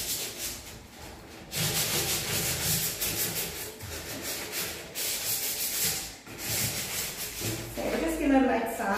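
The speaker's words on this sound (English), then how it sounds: "we're just going to light sand." Light hand sanding of an old wooden church pulpit, a steady close rasping rub in long strokes with brief pauses between passes.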